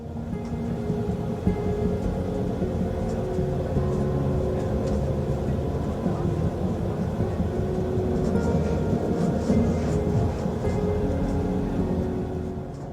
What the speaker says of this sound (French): à bord de notre train, qui nous dépose promptement à la gare de Spiez